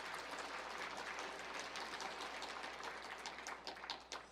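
A church congregation claps for David during a sermon, a soft, dense, even patter of many hands that carries on through the whole stretch, heard from a distance.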